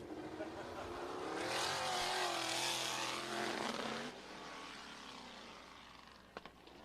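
A non-wing sprint car roars past on a dirt track at Showtime Speedway, Pinellas Park, Florida, during qualifying, engine swelling loud then fading into the distance, leaving a faint rumble.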